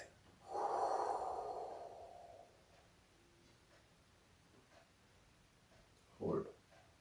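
One deep breath is pushed out through the nose during a guided breathing exercise, a close breathy rush lasting about two seconds. It is followed by quiet and then a second short, sharp exhale.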